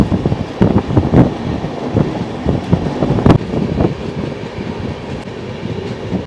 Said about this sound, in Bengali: এই জঙ্গলের মাঝখান দিয়ে যখন ট্রেন যায়, বেশি স্পিডে যায় না